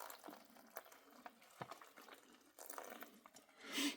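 Water trickles and splashes as it is poured into a freeze-dried Mountain House meal pouch, soft and close with faint crinkling, ending in a brief louder rush.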